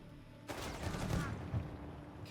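A short burst of machine gun fire in the Company of Heroes 3 strategy game, erupting after a brief quiet and rattling on for under two seconds, with a sharp loud hit at the very end.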